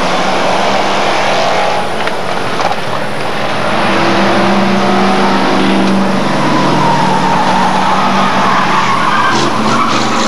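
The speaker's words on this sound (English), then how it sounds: "Lead cars go through once again" Hotstox short-oval race cars roaring past on the track at Buxton, a loud, sustained engine drone with tyre noise that swells as the pack passes close by, no voices over it.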